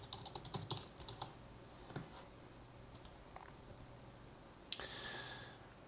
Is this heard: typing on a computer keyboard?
yes